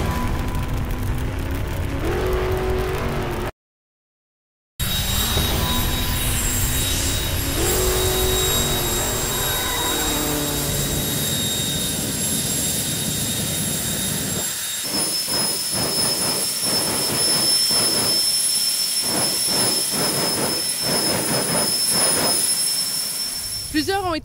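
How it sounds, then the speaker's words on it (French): A jet car roars on the Sanair drag strip: a loud, steady blast of broadband noise with high whining tones, briefly cut out near the start, then pulsing in rapid surges toward the end, with voices mixed in. "Plusieurs ont été surpris de voir ce véhicule sur la piste de Sanair cette fin de semaine, un jet car"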